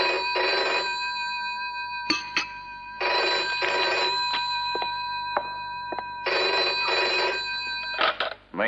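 A telephone rings in a quiet room in a 1971 French haunted-house film, three long electronic ring bursts separated by pauses, with faint clicks between them.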